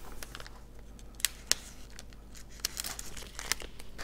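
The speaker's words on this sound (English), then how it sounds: "Now I'm going to get a razor out now and just trim the edge off." A razor blade trimming the edge off a foam wing during a spec wing build: faint scraping and slicing with a few sharp crisp clicks and crinkles, close and quiet, no talk.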